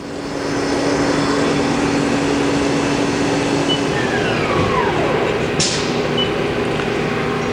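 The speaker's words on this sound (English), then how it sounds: "Spindle's currently running at 250 in low range." A Haas ST-35LY CNC lathe with a two-speed gearbox spins its spindle at 250 in low range, giving a loud, steady whirring drone that holds evenly throughout, with a brief high hiss near the end.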